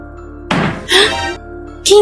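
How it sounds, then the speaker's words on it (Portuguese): Knocking on a door in an animated cartoon, a few dull thunks in separate bursts, close and fairly loud, with voices speaking around them. "É a porta."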